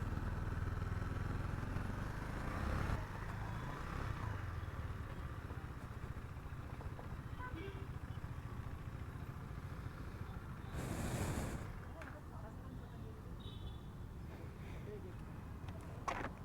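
A KTM Duke 250 motorcycle engine idles steadily when warm with a low continuous rumble and faint ticking noise, with occasional brief noises over it.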